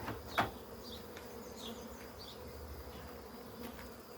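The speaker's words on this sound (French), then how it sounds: "Voilà la famille de clients, vos abeilles qui vous sont destinées." Honeybees buzz around an open beehive in a continuous close hum, with individual bees whining past over the steady drone.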